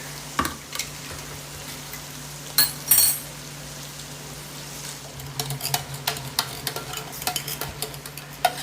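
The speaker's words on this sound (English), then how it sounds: "Let's throw in some tomato puree." Tomato puree hits a hot cast iron pan of browned beef for chili mac, giving a steady low sizzle broken by scraping stirs and clatter, with brief loud bursts early and a run of quick utensil knocks toward the end.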